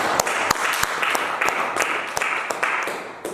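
A church congregation applauds and acclaims Jesus in a dense wash of clapping, with sharper rhythmic claps standing out at a regular beat.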